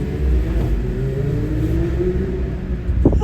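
A Porsche GT3 RS engine revs nearby in a steady rising drone with a sharp flare near the end, heard from a following car.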